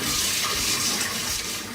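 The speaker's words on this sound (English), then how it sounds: "in the pan with the cold water" Cold tap water runs steadily into a cooking pan holding boiled eggs in a home kitchen, a continuous close splashing flow with no talk.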